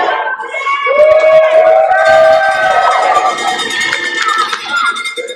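A crowd cheers and shouts at a professional men's race in Miami as a runner comes down the tunnel, a steady, loud wash of voices with whistles and rising yells lasting throughout.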